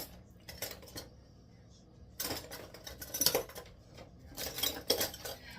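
A three-piece pressure canner weight being fitted onto a canner lid for spaghetti sauce: a few close metallic clanks and rattles in separate bursts, with quiet gaps between.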